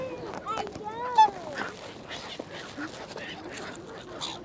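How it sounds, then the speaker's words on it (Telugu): Ducks crowd around people feeding them at St James's Park in London, with nearby quacks and calls rising over steady chatter from adults and children, fairly close and moderately loud. "ఇక్కడ చూడండి ఎన్ని బాతులు వచ్చాయో, వాటికి మేము ఫీడ్ చేస్తున్నాము"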